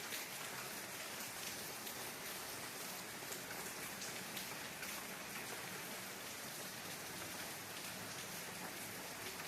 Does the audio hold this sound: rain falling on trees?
yes